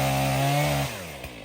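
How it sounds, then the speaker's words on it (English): A chainsaw runs close and loud at a steady high-pitched whine, then its pitch drops as the engine eases back, with no voices. "It didn't take long for my dad and my brother to take the chainsaw out for a try."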